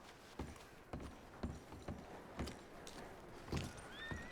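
Horses in the Western video game Red Dead Redemption II stamp and shift with a series of separate hoof knocks, roughly one or two per second, plus a brief whinny near the end, all fairly faint.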